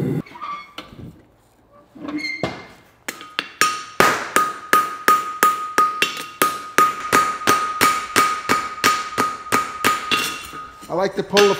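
Hot steel bar hammered flat on an anvil at a blacksmith's forge: a long run of sharp, ringing hammer blows in a steady rhythm, close and loud, with a sustained anvil ring between strikes and a few scattered knocks before.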